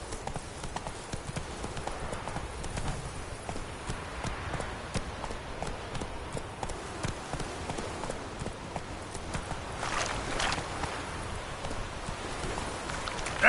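Roach the horse gallops in The Witcher 3, hooves pounding in a fast steady rhythm close by, with a faint ambient wash underneath.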